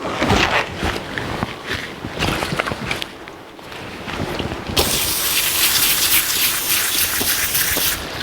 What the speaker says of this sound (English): Brake clean. Clean our surface. Clean the surface of the pan.